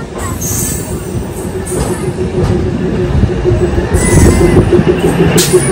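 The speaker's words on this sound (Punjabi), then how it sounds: "85 ਕਿਲੋਮੀਟਰ ਪਹੁੰਚ ਗਏ ਆਪਾਂ ਟ੍ਰੇਨ ਦਾ ਸਫ਼ਰ ਕਰਦੇ ਹੋਏ" A moving passenger train rumbles steadily, with a faint metallic wheel squeal running through it. The noise grows slightly louder toward the end, and no one speaks.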